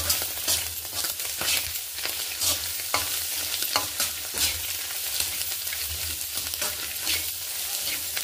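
Egg fried rice is stir-fried in a pan, with a continuous close sizzle and a spatula repeatedly scraping and tossing the rice.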